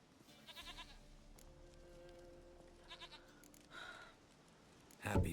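A goat bleats several times in The Witcher 3: Wild Hunt, the calls rising over a quiet game backdrop with a louder, sharper burst of sound near the end.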